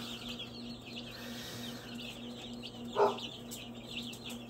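Quail in an enclosure keep up a thin chatter of soft chirps, and one louder, sharper call rings out partway through.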